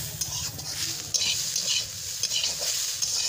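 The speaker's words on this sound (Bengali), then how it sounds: "এখন ভাজা ভাজা করব" Potatoes and greens stalks being fried and stirred in a pan, giving a bright continuous sizzle with frequent close scraping and clinking of the spatula against the pan.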